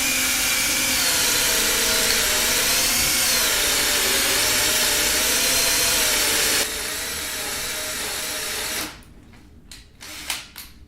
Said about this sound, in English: I've drilled about halfway in, 2 holes both sides.